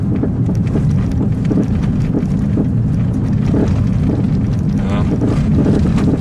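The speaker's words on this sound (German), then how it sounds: "Da ist auf jeden Fall ein Riesengeklopfe." A used Kia Picanto on a test drive knocks loudly and repeatedly over a steady, loud rumble of road and wind noise, with a voice briefly speaking.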